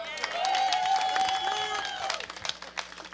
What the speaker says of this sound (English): I would like for you to clap your hands for the chairman and CEO of Lee's Flower and Card Shop